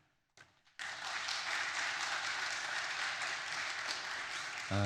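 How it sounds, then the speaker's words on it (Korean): Sustained congregational applause welcoming a pastor to the pulpit at a church revival meeting, starting after a brief pause and holding steady and loud for several seconds. "이 시간 나오실 때 박수로 환영하도록 하겠습니다."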